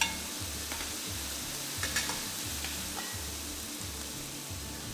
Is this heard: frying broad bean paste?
yes